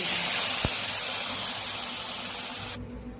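Chutney tempering spices sizzle in hot oil with a steady, loud, bright hiss that runs on without a break, then cuts off abruptly near the end.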